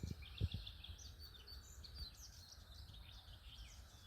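Birds calling and chirping faintly in a peaceful rural free-range setting with a mud pool, a steady high twittering chorus over low outdoor rumble, with a few soft thumps near the start.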